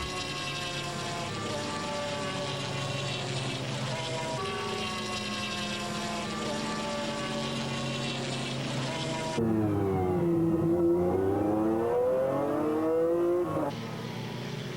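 McLaren-engined racing cars closing on and overtaking a Lotus into a corner, loud sustained engine whine with rising and falling pitch as the cars pass close by.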